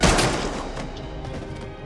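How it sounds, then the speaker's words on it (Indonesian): A gunshot in an action film: one loud blast at the start, then a rumbling, ringing tail that decays over about two seconds, with no voices. "Hingga ketika Devon akan ditembak"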